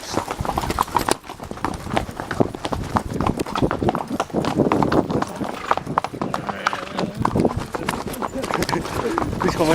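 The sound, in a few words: horse hooves clip-clopping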